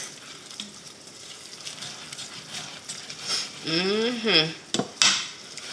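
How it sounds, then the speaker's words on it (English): A whisk stirs sharp cheddar cheese into grits in a pot, giving soft scraping and clinking against the pan, with a voice-like tone and a few sharp taps near the end. "I'm just gonna take this whisk and whisk it around in here."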